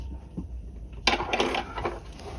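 A sewing machine stitching a peplum sleeve cuff, starting with a sudden mechanical whir after a quiet moment and running in a short, close burst.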